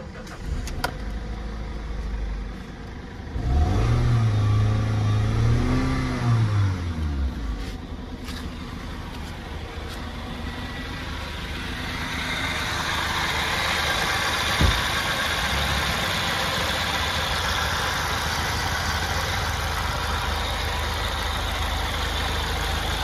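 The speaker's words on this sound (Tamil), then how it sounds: "இப்போ நான் வண்டி ஸ்டார்ட் பண்ணுறேன்." A Toyota Corolla Altis engine, previously flood-damaged with water in the oil, cranks and catches, revs briefly, then settles into a steady, even idle close by.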